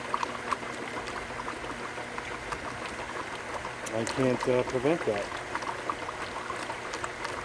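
A regular Kenmore wash machine fills with water in a continuous gushing, boiling-like rush, with someone talking over it briefly in the middle.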